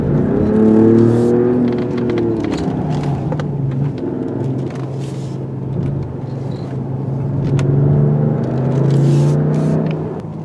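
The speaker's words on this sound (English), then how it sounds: "There aren't too many SUVs that can take corners like this." A 2020 Mercedes-Benz GLE450 4Matic SUV is pushed hard through corners, its engine revving and falling with gear changes over a steady road rumble, heard from inside the cabin with no talking.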